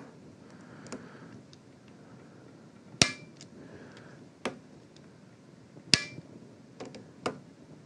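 Torque wrench clicking while tightening riflescope rings on a precision rifle: a few sharp, isolated clicks spaced a second or more apart, close and fairly loud, with a quiet background between them.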